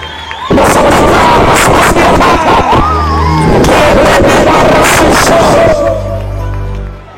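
Fireworks bursting in rapid, loud booming volleys close by, with crowd noise underneath and a voice calling out.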